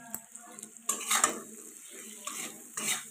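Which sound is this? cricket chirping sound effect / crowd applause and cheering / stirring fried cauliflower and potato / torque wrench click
stirring fried cauliflower and potato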